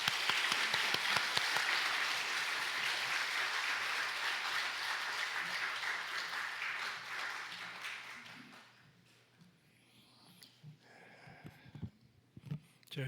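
Congregation applause welcoming a pastor to the pulpit at a Sunday church service, a broad sustained wash of clapping for about eight seconds that fades out, followed by quieter room noise and a few scattered sounds.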